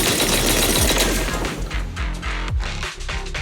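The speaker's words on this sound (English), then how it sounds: "That was the sound of a heavy cannon?" Heavy cannon fire in the Zenless Zone Zero game, a loud dense barrage of booming, rapid-fire blasts and crashing impacts with deep low rumble throughout, close and continuous without talk.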